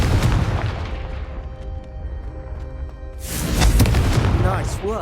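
A Confringo fire spell bursts in the Hogwarts Legacy video game, a loud booming explosion that erupts after a quieter stretch, with voices heard around it.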